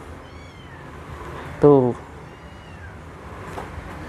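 A male British Shorthair and Persian mix kitten, about two months old, gives one short meow close by, with someone talking before and after it.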